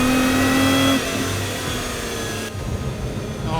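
Sports car engine from a Corvette Z06 vs Lotus Emira comparison revving hard under acceleration, a loud, rising drone that drops briefly at a gear shift and then pulls on again, close and without speech.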